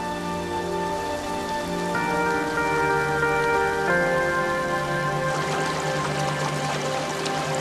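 Heavy monsoon rain pours steadily over forested mountain slopes in Ayubia, a dense continuous hiss of drops on surfaces with no voices, growing slightly busier and more splashy toward the end.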